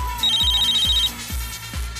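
A telephone rings close by in a steady repeating electronic trill, over a thumping disco beat in a nightclub setting, with no talk.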